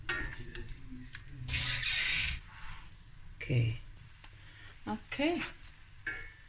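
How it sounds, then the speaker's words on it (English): Haddock fillets frying in a pan, sizzling with bursts of stirring and scraping, close up, while a person speaks briefly over the cooking. "The fish doesn't take long to cook"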